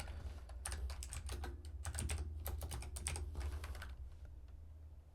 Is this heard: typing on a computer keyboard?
yes